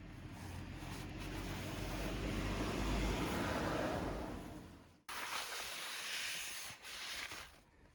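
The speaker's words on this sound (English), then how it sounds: "gonna clean the disc with some brake cleaner" A continuous spray hiss of brake cleaner onto a Honda Grom brake disc, steady and close for about five seconds, then cutting off into a quieter, rougher hiss.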